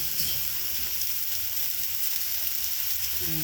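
Potato and raw banana curry, with spices and a little sugar added, sizzles steadily in a pan as it is fried; an even, moderate frying hiss runs throughout with no talk.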